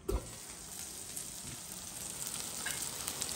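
Rougail with liver pâté sizzles steadily in a hot pan as roasting begins, a close, continuous frying hiss with a sharp crackle at the start and a few soft stirring clicks.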